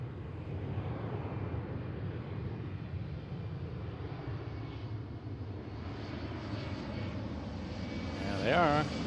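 An Embraer 175 jet arrives on runway 34L at Seattle, its engines a steady low rumble heard from a distance. A voice talks over the engine noise throughout.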